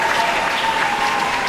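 A short burst of loud, dense audience applause at a French comedy gala, a sustained wash of clapping with no pause and nothing else heard.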